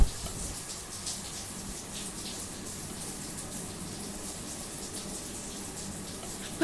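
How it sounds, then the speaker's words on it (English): A shower runs with a steady, soft hiss of spraying water, continuous and even throughout, faint and fairly close, with no talking over it. "well, I guess we'll go take a shower"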